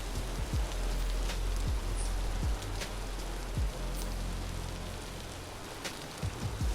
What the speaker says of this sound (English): Oh, it's raining hard outside.